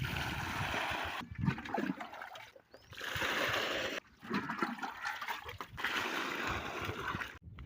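Water pours and splashes steadily in bursts with short pauses, filling a trough or bucket for cows to drink at a village home, running close and fairly loud.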